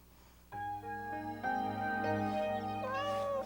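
A cat meows in a series of drawn-out, tonal cries, close and fairly loud, each call rising and bending in pitch, with no other sound around them.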